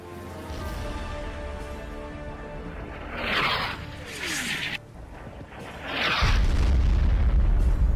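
Artillery shells from a WWI video game battle at Fromelles burst in a series of booming explosions striking enemy mortars, with whooshing blasts and a loud, sustained rumble at the end.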